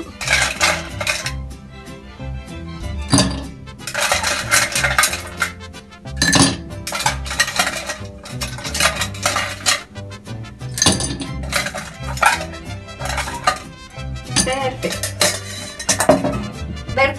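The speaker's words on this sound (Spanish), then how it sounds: "vamos a colocar en nuestro vaso más hielo." Ice cubes are dropped into a glass for a grapefruit-juice Paloma cocktail, making repeated bright clinks and clattering bursts in several separate clusters, close and fairly loud, with no talking.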